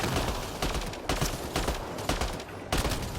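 Rapid bursts of loud gunfire in the Mass Effect Andromeda shooter, a dense run of close shots with brief uneven gaps and one sharp final report near the end.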